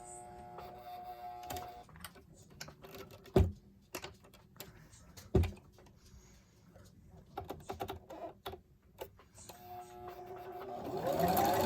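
A sewing machine works a zigzag stitch on a face mask with irregular clicks and thumps, then a steady mechanical whir that builds toward the end, close and fairly quiet.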